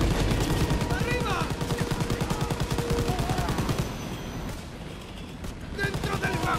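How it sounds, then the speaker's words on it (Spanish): Machine guns rattle in Call of Duty: WW2, rapid continuous bursts of gunfire during a fight aboard a train, loud and dense with shouted voices over the top, easing briefly before firing resumes. "¡Dentro del vagón! ¡Vienen más! ¡Ametralladoras!"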